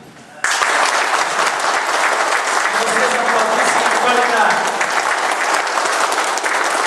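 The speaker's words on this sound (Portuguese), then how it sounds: "Eu gostaria que os técnicos aplaudissem a felicidade." Loud, sustained applause from a lecture audience, breaking out suddenly and holding steady as a dense clapping crowd.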